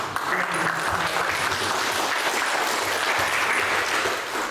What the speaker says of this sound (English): give yourselves essentially a big round of applause